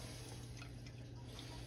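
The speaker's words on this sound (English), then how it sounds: "Look at all the water come out of there." Water squeezed from cooked spinach for a soufflé drips and trickles steadily into a bowl, a faint, continuous wet patter with no talking.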